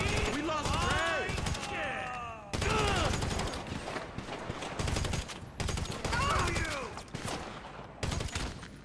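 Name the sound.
gunfire from video game GTA Online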